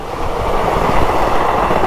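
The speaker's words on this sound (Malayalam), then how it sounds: "ഇതാ സുഹൃത്തുക്കളെ നമ്മൾ കാത്തിരുന്ന പോലെ ട്രെയിൻ പോകുന്നുണ്ട്" A train rumbles past close by near Uthralikkavu temple in Thrissur, Kerala, loud and steady with a rolling clatter of wheels on the track.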